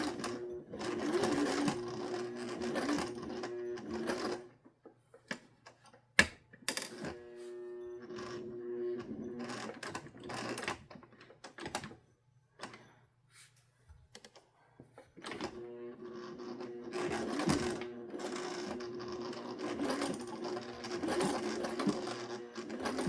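A sewing machine runs a zigzag stitch around the edge of a pot holder, rattling in quick mechanical runs broken by short pauses, close and clear, with brief clicks between passes.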